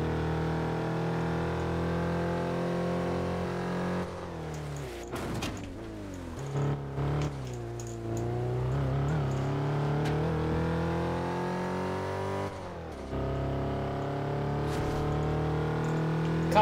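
Car engine in Test Drive Unlimited 2 strains while driving uphill, a steady loud drone with shifting pitch and brief rev changes throughout.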